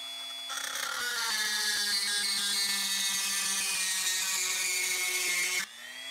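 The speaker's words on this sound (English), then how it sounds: "Using a Dremel cutting bit, cut along the line." Dremel cutting bit grinding through PVC pipe, a high whining rotary buzz that starts, holds steady at close range with a slight drop in pitch under load for about five seconds, then eases off.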